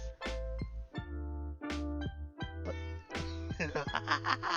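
A cat meows loudly and close by, giving a series of drawn-out, insistent cries one after another.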